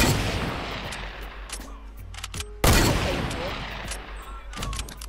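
Rapid gunfire from a Fortnite Battle Royale match, with loud close shots cracking sharply at the start and again near the middle, and players talking in between.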